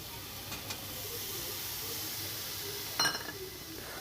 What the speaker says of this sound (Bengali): যে মটরটা আমি আগে থেকে সেদ্ধ করে রেখেছিলাম সেটা দিয়ে দেব